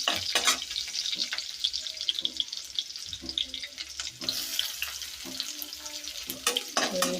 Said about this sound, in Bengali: পেঁয়াজ দিয়ে দিতেছি।